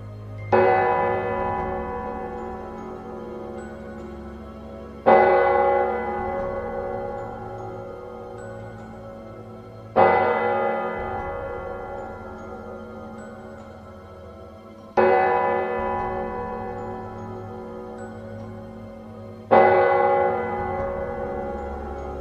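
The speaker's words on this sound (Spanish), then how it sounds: "de pronto las campanas de la iglesia comenzaron a sonar." A church bell tolls five times, one strike about every five seconds. Each deep, resonant ring fades slowly before the next, with no other sound between the strikes.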